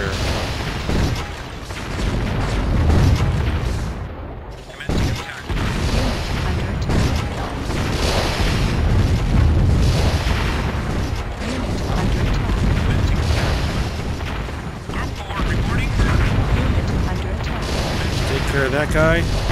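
Cannons fire in the Warzone 2100 strategy game, with repeated deep booms and crashes laid over busy battle noise and mechanical rumble, close and loud, while someone talks over the action throughout.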